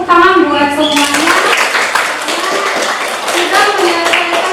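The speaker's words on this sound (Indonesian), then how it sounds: "Oke, kita kasih tepuk tangan buat semuanya." Audience clapping hands together during a classroom teaching-practice session, a steady, close ripple of applause lasting several seconds, with voices talking over it from the start.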